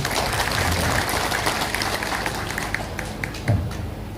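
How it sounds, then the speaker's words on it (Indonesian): A village gathering in Lubuk Batang Baru, OKU, breaks into steady applause, a dense continuous patter of many hands at moderate volume with faint voices mixed in. "Tepuk tangan dulu."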